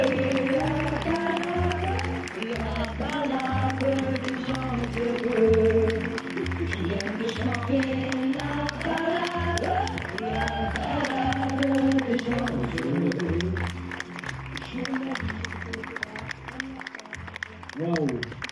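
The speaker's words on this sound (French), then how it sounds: "on l'applaudit très fort" Audience at a film premiere applauding and cheering loudly, a dense steady wash of clapping with crowd noise and a rhythmic music beat underneath, lasting throughout.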